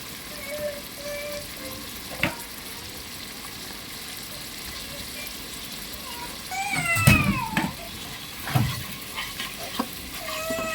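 Masala of cumin paste, salt, turmeric, chili powder and green chilies sautéed in a pan, a low steady sizzle with a few louder stirring scrapes midway; a cat meows faintly in the background.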